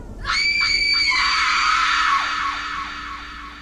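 A loud, shrill scream pierces a Halloween horror tale, starting with a few stuttering bursts before stretching into one long, wavering wail that slowly fades.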